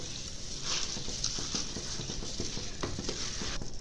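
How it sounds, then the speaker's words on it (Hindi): Rice tipped into a hot pot for chicken and vegetable Chinese biryani, a soft pouring and stirring rustle over a steady sizzle, close and moderately loud with brief scraping touches. "तो अब हम इसके अंदर चावल डालेंगे।"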